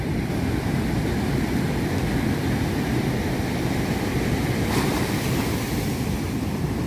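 Storm waves from a cyclone in Mauritius surge and crash steadily onto the shore, a dense continuous roar of surf mixed with gusting wind buffeting the microphone, loud and close throughout.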